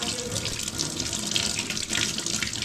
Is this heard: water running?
yes